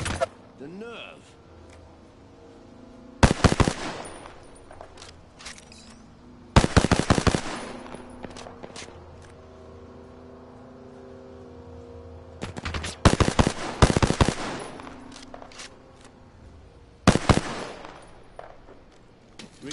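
Bursts of automatic gunfire in Apex Legends crackle in four separate volleys over a quieter game background, with sharp, loud, rapid clusters of shots spaced several seconds apart.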